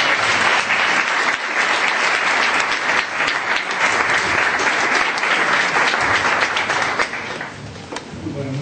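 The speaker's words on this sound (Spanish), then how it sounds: "un fuerte aplauso, por favor" Loud, sustained applause fills a hall at a public conference on the Malvinas and colonialism, a thick crowd of clapping that holds strong before thinning near the end as a voice begins to speak.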